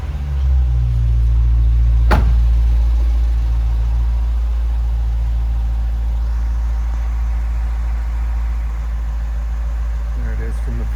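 A 2016 Dodge Challenger R/T idling steadily with a deep low rumble, close and continuous, with one sharp click partway through.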